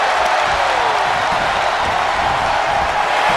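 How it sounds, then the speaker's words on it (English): Loud, sustained cheering and applause from a packed wrestling arena crowd at a RAW show, an even dense roar filling the whole stretch without a break. "This crowd is thunderous right now."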